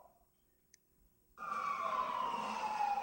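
After a brief quiet moment, a loud fire engine siren kicks in on a code 3 emergency run, wailing steadily with a sweeping, falling tone, close by and continuous.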